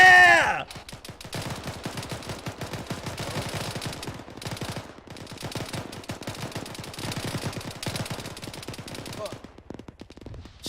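Rapid automatic gunfire rattles in long sustained bursts, aimed at a helicopter's tail rotor during a platoon training session, loud and close with brief pauses between volleys.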